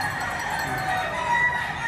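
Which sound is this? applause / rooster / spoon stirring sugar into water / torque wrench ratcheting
rooster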